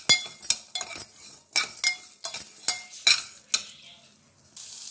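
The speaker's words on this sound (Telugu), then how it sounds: "ఆనియన్ ని కొబ్బరి మెంతులు ఈ మూడు కూడా కొంచెం బ్రౌన్ కలర్ వస్తాయి కదండి అప్పటిదాకా అయితే ఇలా ఫ్రై చేయండి" Onion, coconut and fenugreek frying in a pan for fish curry, with bursts of sizzle and a spoon clinking and scraping against the metal in uneven strokes, close and fairly loud.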